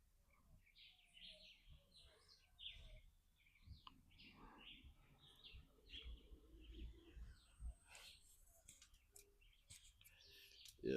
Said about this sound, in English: sitting outside here, listening to the birds and soaking up nature.